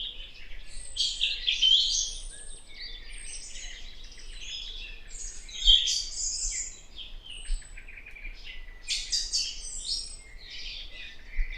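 Very small birds at a forest puddle on a hot day give rapid, high, bright chirps and twitters in busy overlapping bursts, close and fairly loud over a quiet background.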